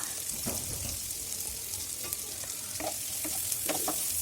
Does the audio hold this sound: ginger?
yes